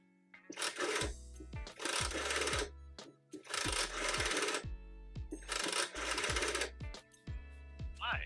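A telephone rings while calling Nintendo, with four long, loud electronic ring bursts separated by short pauses, each burst followed by a low thump.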